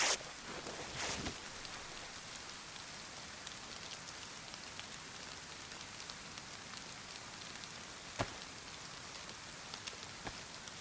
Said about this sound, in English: As we know, it's raining.